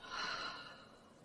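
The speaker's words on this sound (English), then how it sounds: "Take a deep breath in. Open mouth, exhale." A single open-mouthed exhale during a gentle yoga session, a soft breathy rush that swells early and then trails off quietly, close and alone with no talking.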